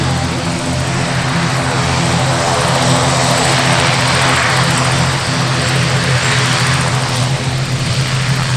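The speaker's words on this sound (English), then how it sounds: "This is the ATR" An ATR 72 turboprop airliner flies a display at the Farnborough Airshow 2024, its propeller drone loud, steady and continuous throughout, with a deep throbbing engine tone.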